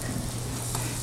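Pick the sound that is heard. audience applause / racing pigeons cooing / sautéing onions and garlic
sautéing onions and garlic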